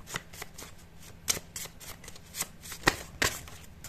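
Tarot cards shuffled by hand during a pick-a-card reading, a close papery riffle of uneven flicks and soft slaps with occasional sharper snaps, no speech.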